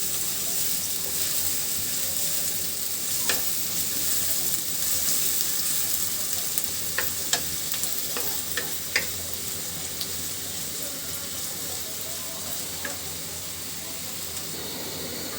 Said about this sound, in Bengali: পেঁয়াজটা খুব ভালো করে ভাজি করে নিব।